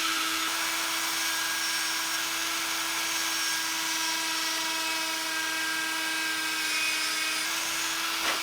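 A small high-speed rotary drill boring a hole for magnets in a handmade fishing lure, a steady whining tone running unbroken and close for the whole stretch.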